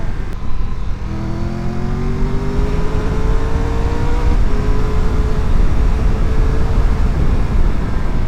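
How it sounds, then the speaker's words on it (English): A Triumph Tiger 1200 Rally Explorer motorcycle accelerates hard through the gears with its quick shifter, engine pitch climbing and dropping at each smooth upshift, loud and close with rushing wind noise throughout. "that quick shifter and blipper is so smooth"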